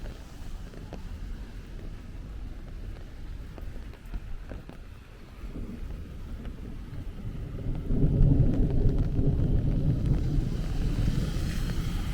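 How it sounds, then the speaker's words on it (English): A low, rolling rumble of thunder swells in the second half over steady rain and wind noise on a street in Bensonhurst, Brooklyn, New York. "There goes our first rumble of thunder since the camera's on."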